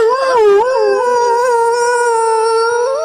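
A performer's voice imitates a hungry dog's howl, a single loud drawn-out wavering howl that rises at the start, then holds and wobbles for about three seconds, alone and close.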